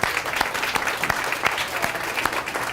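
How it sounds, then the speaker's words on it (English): Applause from an audience, a steady wash of many hands clapping with a few sharper claps standing out, fairly close and continuous. "give Outer Limits a big round of applause on TV"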